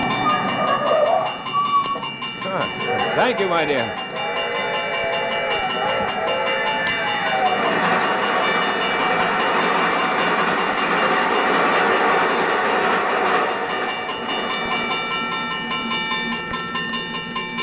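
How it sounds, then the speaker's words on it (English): A train passes in a radio drama sound effect: a loud, steady rumble of rolling cars with whistle-like tones that swells and holds for most of the scene, under a brief exchange of spoken dialogue near the start. "There's a train coming."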